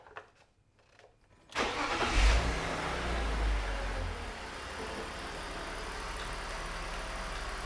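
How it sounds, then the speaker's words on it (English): A BMW E46 325i Touring's straight-six engine catches after a brief cranking and settles into a steady, close idle with a low rumble that holds evenly to the end. "Now I'm gonna let it idle for 12 minutes."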